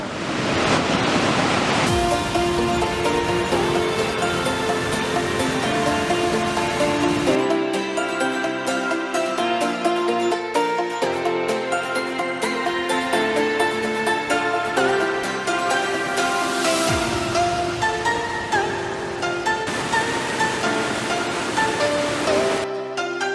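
Strong current of the Tinipak River near Mount Daraitan rushing loudly and steadily, a dense broadband roar of water that holds throughout with a brief shift in texture partway.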